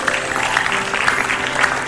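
Television studio audience at Indonesia Lawak Klub breaking into applause, an even, continuous spatter of clapping that holds steady throughout the brief moment.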